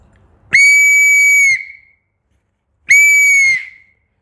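A police whistle blows two loud, shrill blasts, each about a second long with a short gap between, sharp and close with nothing else audible.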